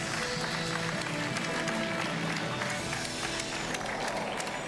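Steady applause from a television game show studio audience on Mot de passe continues for several seconds, a thick continuous clatter of hands with faint voices and music beneath it.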